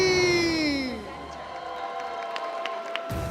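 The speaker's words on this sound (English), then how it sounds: "let's give a round of applause for our" A crowd cheers with a loud falling whoop for the finals MVP at an Honor of Kings esports tournament, then scattered claps and shouts continue in a noisy hall.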